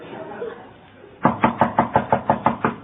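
Someone raps on a door at night with about eight evenly spaced, loud knocks after a brief quiet lull.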